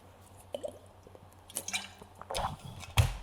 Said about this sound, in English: I'm just having a drink of water